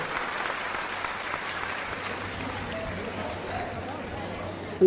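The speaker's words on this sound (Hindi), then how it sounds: "एक बार सभी लोग महाराज जी के लिए जोरदार ताली बजाएं, ऐसे काम के लिए जोरदार ताली बजाएं।" A large audience at a Hindi religious discourse bursts into sustained, steady applause for the speaker, a dense clapping wash that holds evenly throughout with no talk over it.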